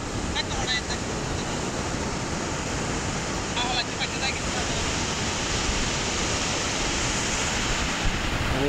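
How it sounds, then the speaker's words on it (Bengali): Ocean waves at Cox's Bazar beach roll in as a constant, loud, broad wash of surf, steady and unbroken throughout, with a few faint voices briefly heard beneath it. "You see the waves of the ocean."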